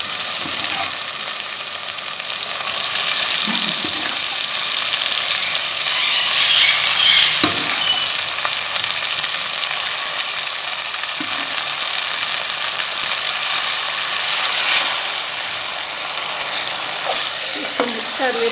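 Mustard greens (saag) sizzle steadily in a hot pan, a loud, continuous frying hiss broken by occasional soft scrapes and knocks as the greens are stirred.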